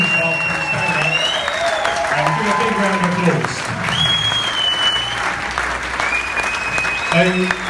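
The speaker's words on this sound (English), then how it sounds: "give a big round of applause" Sustained applause from an audience at a charity summer ball, a crowd clapping steadily throughout while a voice and whistling tones sound over it.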